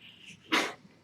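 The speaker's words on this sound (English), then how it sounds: "Was that a sneeze or a..." A kitten sneezes once, a short sharp burst in a feral recovery room, loud and close over a quiet background.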